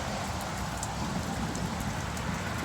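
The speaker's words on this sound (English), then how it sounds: "a constant downpour is good for plants" Heavy, steady rain pours down during a South Louisiana thunderstorm, a dense, continuous hiss with a low rumbling wash underneath, close and unbroken, with no voices.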